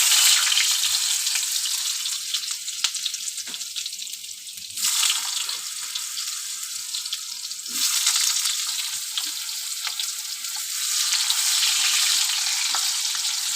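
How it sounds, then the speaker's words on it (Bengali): Potatoes fry in hot oil in a kadai already seasoned with cumin and bay leaf, giving a steady bright sizzle that swells in a few waves and carries on alone without any talk. "এবার আমি আলুটা ভেজে নেব।"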